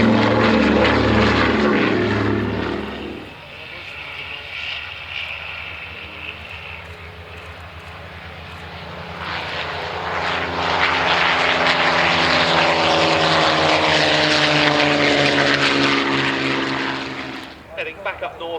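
Vintage propeller aircraft of the Real Aeroplane Company at an autumn air display at Duxford drone loudly and steadily, the engine note swelling as they pass close by, then fading and building again.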